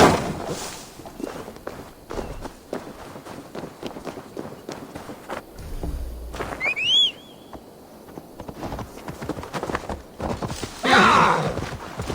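Horse hooves in Assassin's Creed Valhalla clop steadily at a walk, moderately close and continuous, with a brief whinny partway through and occasional game sounds around them.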